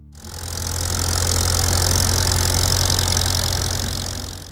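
A Farmall 400 tractor engine from the 1950s runs steadily, its loud, even rumble holding for several seconds with a deep low hum and no voices over it.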